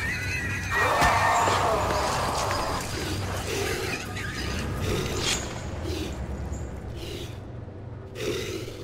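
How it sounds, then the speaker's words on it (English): A pig-like monster, the Butcher, in the Silent Hill: Origins video game squeals and grunts through a sustained noisy stretch, with breathy bursts and sharper cries near the end over a low game rumble. "It sounds like a pig."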